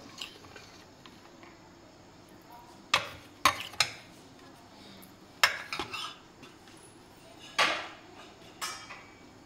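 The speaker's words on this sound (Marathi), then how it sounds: "चवीनुसार मीठ आणि अगदी 1 चमचाभर तेल घालून आपण हा मसाला सगळा व्यवस्थित मिक्स करून घेऊया" A spoon stirs and scrapes a masala of crushed peanuts, red chili powder, salt and a spoonful of oil in a metal bowl, giving about eight sharp clinks and scrapes in an irregular rhythm over quiet background.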